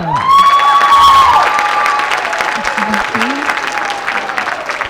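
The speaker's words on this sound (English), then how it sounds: "go ahead and applaud" An audience at an elementary honor choir event applauds and cheers for a named student, loud clapping with whoops and a high shouted call over it, a voice briefly heard beneath the crowd.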